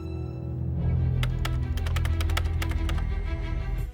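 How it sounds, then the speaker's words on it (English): Nick Fury typing up plans on a keyboard in Captain Marvel: a quick run of sharp key taps that starts about a second in, loud and close, over a steady low droning hum. "we see Nick Fury typing up plans for something called the Protector Initiative."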